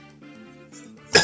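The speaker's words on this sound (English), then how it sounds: "Sorry, I'm coughing" A single short, loud cough bursts out at the end, close to the microphone, after a stretch of quiet room tone while someone is recording a Fire Emblem tier list.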